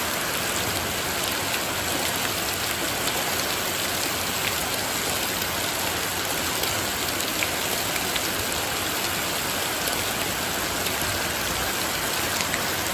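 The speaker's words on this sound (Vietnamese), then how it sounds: "Mưa to quá." Heavy morning rain pouring down steadily in a rural yard by a flooding pond, a dense, loud, unbroken hiss of drops with no pauses for the whole stretch.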